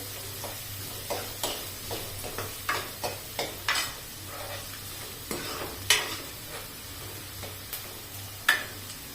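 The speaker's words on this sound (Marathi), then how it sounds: "दोन मिडियम साईजचे कांदे घेतलेले आहेत हे परतून घेऊ" Two medium onions sauté in a pan, a soft steady sizzle under regular spatula taps and scrapes that sound roughly once a second, fairly quiet and close, with no speech.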